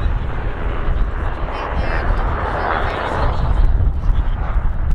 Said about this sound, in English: that UH-60 helicopter is just a workhorse across multiple services, multiple agencies